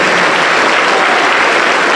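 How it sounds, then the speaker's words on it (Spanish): A Pentecostal church congregation claps hands during worship, loud, dense and continuous applause from a full room with no pause. "Más alegre las palmas para Cristo"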